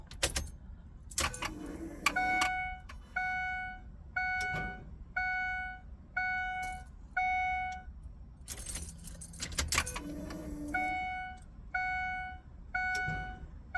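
Priming the fuel system of a 2005 Ford Econoline E350 Super Duty van: keys jangle in the ignition as it is cycled twice, each time setting off a string of evenly spaced dash chime beeps with a short low pump buzz, fairly quiet and close.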